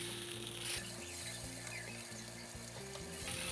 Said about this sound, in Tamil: ஏற்கனவே பிசைஞ்சு ரெடியாக இருக்க ஃபிஷ்ஷை இப்போ இந்த தோசை தவாவில் வச்சுக்கலாம்